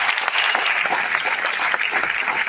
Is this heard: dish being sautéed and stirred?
no